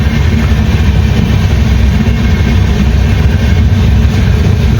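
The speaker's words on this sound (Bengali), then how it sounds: "অন্যতম সেরা ট্রেন জার্নি এই গাড়িটা গুয়াহাটি যাচ্ছে" A passenger train, the Mahananda Link Express bound for Guwahati, rumbles steadily along, a loud continuous low roar and rattle of wheels and carriages with no break.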